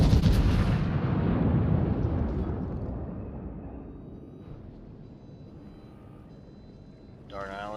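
Naval gunfire from the 283 mm HE-firing guns of the Scharnhorst in World of Warships, a heavy booming blast rolling into a long fading rumble, a voice breaking in briefly at the end.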